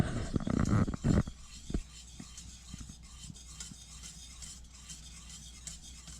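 A spoon stirring thick, clumping porridge made from fresh milled wheat, with a brief burst of louder scraping at first, then soft intermittent stirring scrapes against the pot.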